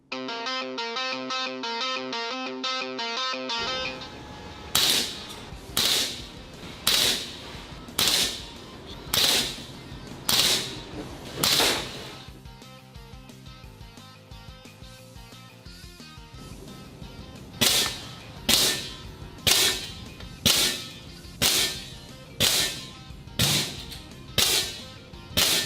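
A Diana Bandit .177 PCP air pistol fires pellets in a rapid string of sharp, loud cracks, about a dozen evenly spaced shots in two bursts, with a brief mechanical clicking before the first shot.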